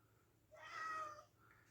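A single drawn-out cat meow rises and fades over about a second, moderately close in a quiet indoor room, with no other sounds around it.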